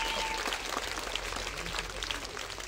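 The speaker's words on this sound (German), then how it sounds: "einmal Applaus dafür bitte" Audience applause at a live concert at an outdoor venue, a faint, distant wash of steady clapping.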